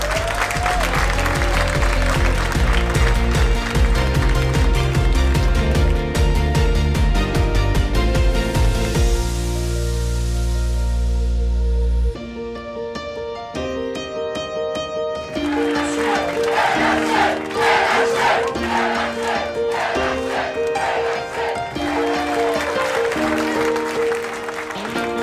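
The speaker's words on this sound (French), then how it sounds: "Vous pouvez vous applaudir." Crowd at a hockey club's season-end party applauds and cheers loudly and steadily, with music playing over much of it and a brief dip midway before the clapping swells again.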